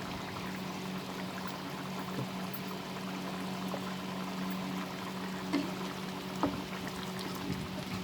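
Ghee poured into a pan of chana dal fry, a soft steady liquid trickle running close and continuous, with a couple of faint clinks near the end and no talking.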